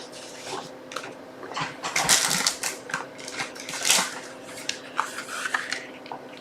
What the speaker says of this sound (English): now I will need to cut a piece of cardstock